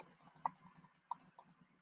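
Faint clicking from a computer mouse and pen while drawing an SVG graphic on a computer, a few sharp isolated clicks over a quiet background.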